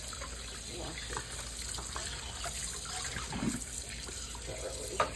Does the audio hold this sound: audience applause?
no